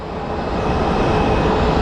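Steady broadband roar of an airplane at Phoenix Sky Harbor International Airport, a continuous rushing engine wash that swells slightly and holds at close, loud level throughout with no voices.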